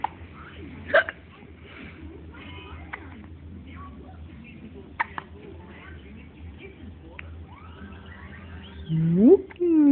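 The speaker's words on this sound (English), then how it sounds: "Two good hiccups." A baby gives a couple of small hiccups indoors, brief soft bursts spaced apart, with quiet background and a voice briefly rising near the end.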